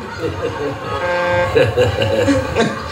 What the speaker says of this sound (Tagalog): Kaya may dumadating na, bumubusina na.